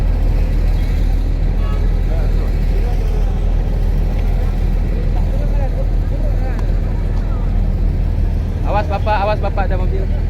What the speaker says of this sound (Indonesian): Awas bapak ibu ada mobil.